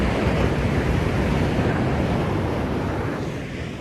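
Ocean waves wash onto a clean, warm-water beach as a steady broadband roar, close and continuous throughout, with no voices.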